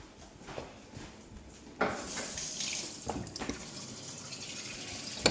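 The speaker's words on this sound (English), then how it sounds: "I'm just going to rinse it in warm water." Warm water runs from a kitchen tap as a wok is rinsed, giving a steady splashing gush that swells when the stream hits the pan, with a few clunks of metal nearby.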